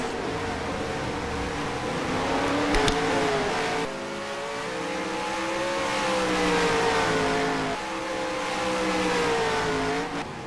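Race cars roar steadily through a heat race at Eldora Speedway, the engine note rising and falling as the field laps, loud and continuous with no voices.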